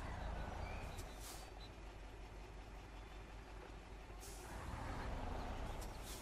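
A Tatra truck in a driving video game rolls backward after being released, with a loud steady engine and road rumble throughout and short hissing bursts like air brakes near the start and end.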